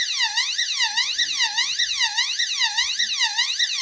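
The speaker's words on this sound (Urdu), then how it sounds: "جب اس کے سامنے سے کوئی گزرے گا تو یہ آن ہو کر الارم دینا شروع کر دیتا ہے" The BK-666 A solar motion sensor wall lamp sounds its alarm, a loud, steady electronic siren that sweeps up and down in a rapid repeating wail and keeps going without a break.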